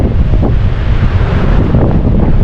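Strong wind buffets the microphone at a beginners' surfing beach with smaller surf, a loud, steady roar with low surf wash beneath it and no voices.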